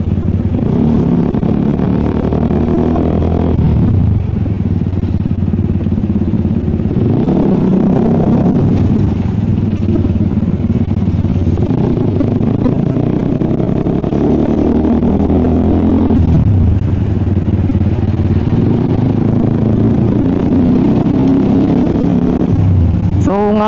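Steady road traffic rumble on a cloudy, darkening day, heard from inside a moving vehicle with constant engine drone and wind buffeting, occasional surges of acceleration, and someone talking intermittently.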